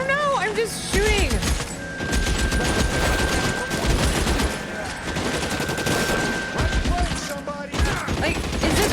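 Video game gunfire, rapid bursts of shots and automatic fire crackling densely and loudly nearly nonstop, with a voice talking over parts of it.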